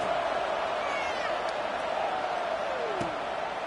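A football stadium crowd murmurs and cheers in a steady, dense roar just before a kickoff, with broadcast commentary talking over it throughout.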